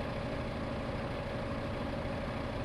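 Tractor engine in Farming Simulator 15 labouring up a slope, a steady low drone with a constant tone, held at an even moderate level throughout with no voices.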